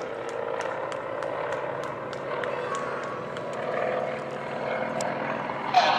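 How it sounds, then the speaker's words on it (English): Nine-cylinder radial engines on Red Thunder air show team aircraft at the Courtland Air Show 2011 drone steadily at moderate distance, a continuous rumbling hum with scattered faint clicks and a brief sharper sound near the end. "Nine-cylinder radial engines in these aircraft."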